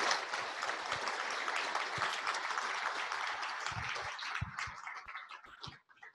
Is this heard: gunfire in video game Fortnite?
no